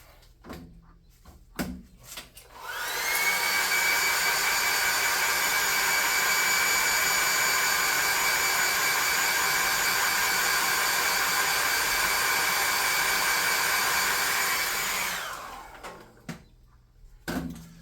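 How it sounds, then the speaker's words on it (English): A hair dryer switches on and blows with a steady, loud whirring hiss for about twelve seconds, drying paint on a miniature anvil, before shutting off, with quiet handling sounds around it. "Let's hit that with the hair dryer and do another coat."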